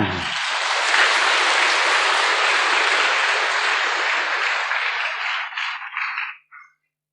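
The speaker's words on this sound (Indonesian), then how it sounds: "Tepuk tangan untuk Pak Nur Hasan." Audience applause in a hall honoring a person at a religious congregation event, a dense steady clapping wash lasting about six seconds before tapering off abruptly.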